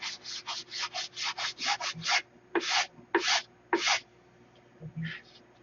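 Wood is sanded by hand close up in a hangar, a quick run of about ten rhythmic rasping strokes followed by a few slower, longer strokes, with no talk.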